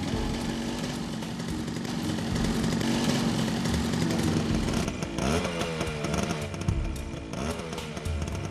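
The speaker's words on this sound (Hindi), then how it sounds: "तभी मैंने एक मोटरसाइकिल देखी।" A motorcycle engine drones and revs steadily at close range for several seconds, with a rough, buzzing tone and music playing underneath.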